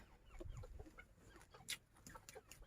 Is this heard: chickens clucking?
yes